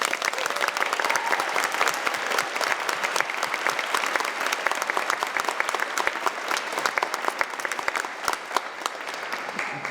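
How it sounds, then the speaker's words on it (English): A crowd at a Brandon Sanderson book event applauds Dwayne and ubooks, with steady, crisp clapping from many hands and sharper individual claps standing out through the continuous wash. "Let's clap for them."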